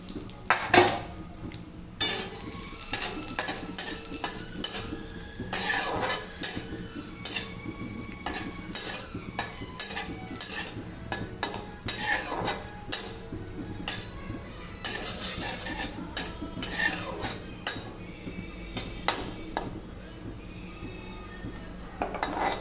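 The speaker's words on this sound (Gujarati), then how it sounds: "ત્યારબાદ હવે હું પિસ્તા શેકી લઈશ." Pistachios being dry-roasted in a pan while a spoon stirs them, giving repeated metallic scrapes and clinks against the pan, close and steady with no talking.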